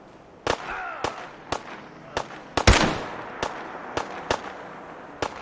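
Gunfire in a video game, about a dozen sharp single shots spaced irregularly, with one heavier blast partway through.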